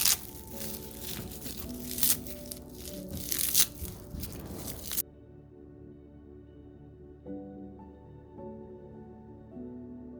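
Seaweed cut and smashed in a home kitchen, close crinkling, tearing and crunching bursts for about five seconds, then quiet with a low background hum.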